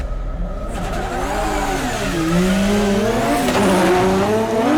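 Drift cars race into the first corner at a British Drift Championship 2017 round, engines revving loudly with rising and falling pitch and tyres squealing, close and continuous without speech.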